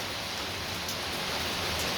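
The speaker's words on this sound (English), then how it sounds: "raining hard" Heavy rain pours down steadily, a dense, loud, even hiss that fills the whole stretch with no pauses.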